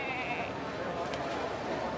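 A person imitates a sheep's bleat from the crowd at a lawn bowls match in Melbourne, a wavering bleating call heard amid ongoing talk and venue noise.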